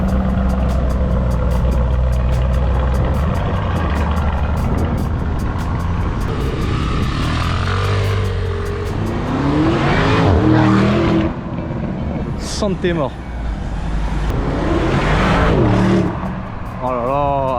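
A car accelerates on a roadside in Turkey, engine noise building and peaking loudly nearby with rising revs around the middle and again near the end, while people talk over it.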